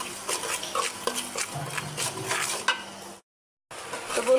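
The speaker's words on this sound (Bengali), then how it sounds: "এই মশলাটা আমি ভালো করে কষিয়ে নিয়েছি" Spice paste of turmeric, garam masala and salt with a little water frying and being stirred in a pan, with steady close sizzling and repeated scraping strokes, then a brief pause of silence before the stirring resumes.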